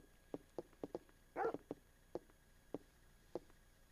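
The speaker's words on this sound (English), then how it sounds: "I'll introduce you to the best police dog in town." A police dog in the video game Parasite Eve barks in a series of short, quiet yaps with one brief whine-like yelp in the middle, fairly faint and alone.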